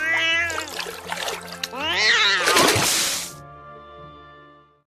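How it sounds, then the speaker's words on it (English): A cat meows repeatedly in several drawn-out, rising and falling cries, close and loud, ending with a long wailing call before fading to quiet. "such as bathing her cat Lucifer"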